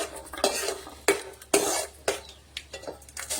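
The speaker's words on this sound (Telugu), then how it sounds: "పల్లీలు అయితే వేగిపోతున్నాయి" Peanuts roast in a dry pan while a utensil stirs them, giving repeated bursts of scraping and rattling in an uneven rhythm, close and clear, with no voices.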